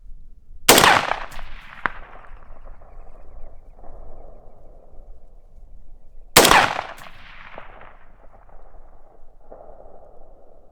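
Two loud, sharp rifle shots from an Aero Precision 20-inch upper crack several seconds apart outdoors in wind, each trailing off in a short echo, with a faint distant knock after the first.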